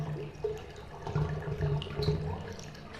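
A toilet flush in the video game Deadly Premonition gives off a quiet, continuous watery gurgle and rush for about three seconds with no talking.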